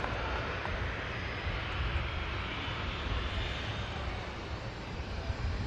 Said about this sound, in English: Finnair rotates.